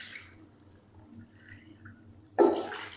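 Two cups of water are poured into a pressure cooker of dal gosht, a short, splashy gush near the end after a quiet stretch.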